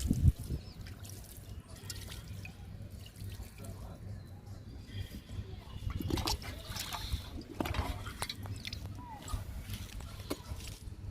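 Liquid is poured from a container onto a potted mint plant, giving a soft trickling and splashing under quiet talk, faint and close.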